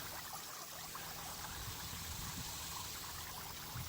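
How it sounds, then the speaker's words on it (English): Water runs steadily over a small homemade backyard pond waterfall, giving a faint, continuous splashing trickle close by with no voices. "After it gets water running through it, we'll see how far that waterfall extends."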